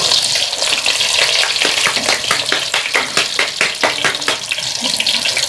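Puri frying in hot oil: a loud, bubbling sizzle broken by a run of sharp crackling bursts that come quickly one after another, up close and with no talking.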